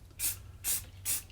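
Black spray paint hisses from a can into the grooves of a carved redwood cabin sign, three short, even bursts close by, with quiet pauses between them.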